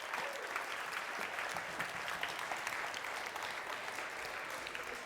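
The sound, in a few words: audience applause at poetry event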